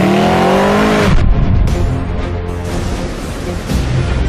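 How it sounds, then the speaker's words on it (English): A 2015 Mercedes-Benz S63 AMG Coupe at full throttle: a loud, close engine wail that climbs in pitch, breaks off at an upshift, then drones on as a steady, rough exhaust roar. "This impressive luxury machine delivers the driving dynamics and the exhaust note of a high-performance sports car."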